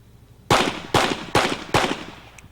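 Four sharp pistol shots ring out at an IDPA shooting match, fired from concealment at an even pace of roughly one every half second, each loud crack trailing off into a brief echo, with no talk over them.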